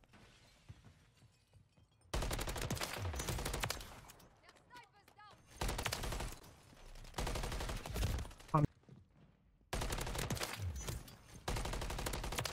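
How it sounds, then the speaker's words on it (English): Teammates' gunfire in Call of Duty MW3, loud bursts of rapid automatic shooting in several separate volleys broken by quiet gaps, with a brief exclamation from a player. "They just keep shooting each other."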